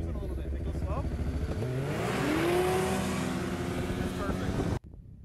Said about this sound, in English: release the brake, and the unit absolutely takes off with near perfect traction